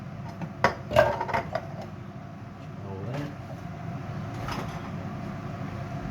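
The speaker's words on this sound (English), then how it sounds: "Give that a good old stir." A spoon scrapes and clinks in a pot of chopped ingredients, beans and tinned tomatoes, with a few sharp knocks early and then steady, softer stirring in a kitchen.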